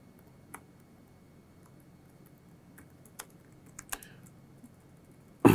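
A handful of sparse, quiet keystrokes on a computer keyboard while printf code is written, isolated taps spread out over a faint background hum, ending in a louder clack.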